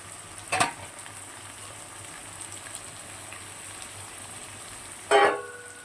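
Cumin paste fries in a pan under a faint constant hiss, with two short, sharp bursts of sizzling spaced several seconds apart.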